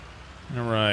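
A tractor engine in Farming Simulator 19 starts up partway through and settles into a steady, loud, harmonic drone that grows stronger toward the end, with nothing else heard before it kicks in.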